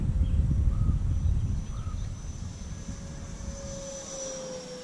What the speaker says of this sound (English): I'm gonna do a flyby here